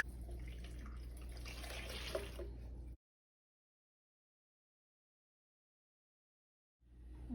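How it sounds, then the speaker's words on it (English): Water runs from a tap in a steady rushing stream for about three seconds, then cuts to silence before the flow starts again at the end, close and clear. "Gonna fill some water."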